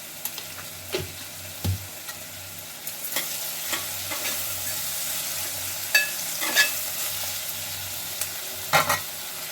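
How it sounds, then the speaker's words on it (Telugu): Chopped onion frying in oil in a home kitchen pan, a continuous close sizzle broken by several sharp spatula scrapes and clinks against the pan. "ఒక స్పూన్ ఉల్లిగడ్డ అనేది మంచి నూనెలో గోలుతుంది తొందరగా"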